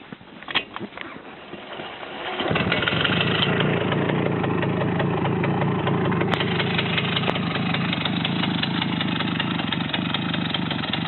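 A Romet motorcycle on its first ride is started with a few rough cranking bursts, then settles into a steady, loud, close idle that runs evenly.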